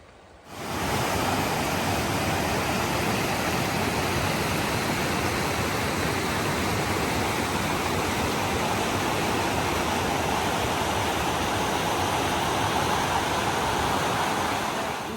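Cold mountain stream on a granite trail crossing rushing steadily and loudly, a broad continuous wash of water noise that starts abruptly and holds without pause.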